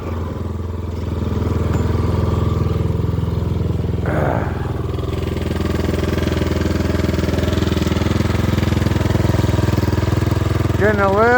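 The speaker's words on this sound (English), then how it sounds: "it kind of idles up after it warms up" Hammerhead 150 engine idling after warming up, a steady close mechanical chug that starts after a second and runs throughout, with some rattling clatter and brief voices over it.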